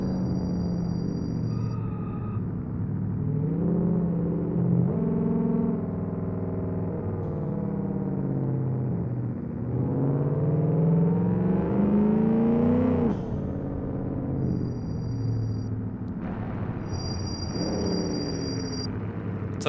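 A simulated car engine in the BeamNG.drive game revs up and down repeatedly in long smooth sweeps, a loud continuous harmonic drone with occasional short electronic beeps on top.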